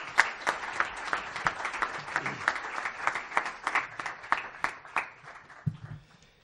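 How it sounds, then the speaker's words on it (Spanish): An audience gives a book author a sustained round of applause at a book presentation, with dense, steady clapping from a crowd that gradually thins out near the end. "Un aplauso para Jesús Benítez"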